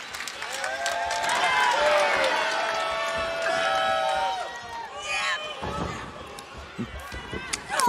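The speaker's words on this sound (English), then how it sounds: "The cheering you hear. They are pulling for Mariah May here in Vegas." Arena crowd cheering at a Las Vegas pro wrestling match as fans rally behind hurt wrestler Mariah May, a broad sustained roar with whistles and shouts, thinning toward the end.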